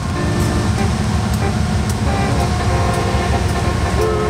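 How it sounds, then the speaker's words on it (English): A train passing close by, a loud continuous rumble and rattle of wagons on rails with faint squeals and clanks on top, filling the whole stretch with no speech. "There's a train going by, hold up."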